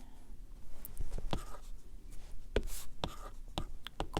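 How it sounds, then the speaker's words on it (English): Handwritten notes during a physics lesson on nitrogen's melting point, a pen or marker scratching out short strokes in irregular bursts, close and moderately loud with no talking. "Here, I'll write it here."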